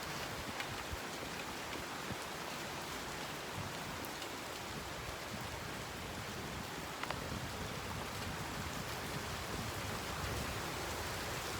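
Rain falling outdoors during an open-air yoga session, a dense, steady hiss of drops on surfaces continuing evenly and fairly loud the whole time, with no voices.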